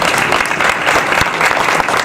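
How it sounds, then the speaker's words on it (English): Brief burst of applause at a school winter sports awards event, dense clapping close and loud with a few sharper individual claps. "Your teammates should give you a round of applause for that."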